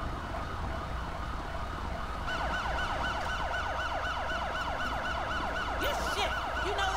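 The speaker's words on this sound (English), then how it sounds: "All y'all sirens are annoying" Police and ambulance sirens in GTA 5 wail in steady repeating sweeps at moderate distance, looping continuously without speech.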